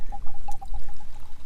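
Maker's Mark whisky pours straight from the bottle in a quick, close, rhythmic glugging stream of about a dozen gurgles over a second and a half.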